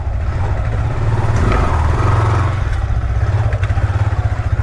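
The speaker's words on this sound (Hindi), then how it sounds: "तो बाइक को निकालते हैं, बाइक में फ्यूल वगैरह भी ज़्यादा नहीं है" A motorcycle engine runs loud and close, a low throbbing, slightly rough putter that holds steady and pulses more sharply toward the end.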